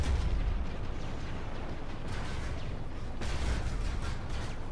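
Weapon fire in Planetside 2, a steady roaring barrage of distant booming shots and explosions blending into a continuous rumble, with a few sharper bursts standing out and no voices.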